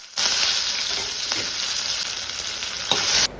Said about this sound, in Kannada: ನಾನಿಲ್ಲಿ ಎರಡು ಟೇಬಲ್ ಸ್ಪೂನಷ್ಟು ಕೊಕೊನೆಟ್ ಆಯಿಲ್ ಅದಕ್ಕೆ ಮಸ್ಟರ್ಡ್ ಸೀಸ್ ಹಾಕಿ ಕೊಡ್ತಾ ಇದ್ದೀನಿ ನಂತರ ರೆಡ್ ಚಿಲ್ಲಿ ಮತ್ತು ಕರಿ ಲೀವ್ಸನ್ನು ಹಾಕಿ ಕೊಡ್ತಾ ಇದ್ದೀನಿ